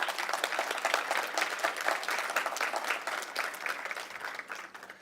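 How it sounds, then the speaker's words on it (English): Steady applause from an audience at a Southern African arts summit, honouring Namibia's culture minister, dense clapping held at an even level for about five seconds with no talk over it. "please give her a round of applause"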